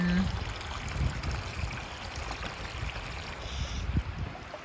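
Water runs steadily as troughs are filled for horses in a stable, a continuous trickling and gurgling stream that persists close by throughout.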